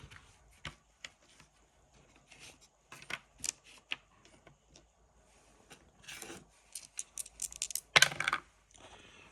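Dice rolled by hand clatter across an Arthur Popper Games travel backgammon board, heard as scattered, crisp clicks and short rattling bursts with quiet gaps between them, close and fairly faint.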